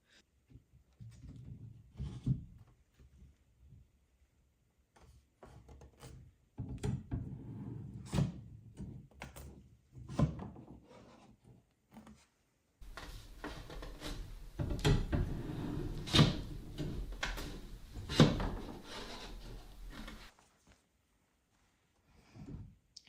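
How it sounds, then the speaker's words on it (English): An IKEA Pax wardrobe drawer is hooked onto extended metal drawer slides. Scattered close knocks, scrapes and light clicks of wood and metal come in bursts, busiest in the middle section, with pauses between. "you're going to hook these holes on the bottom of your drawer into those."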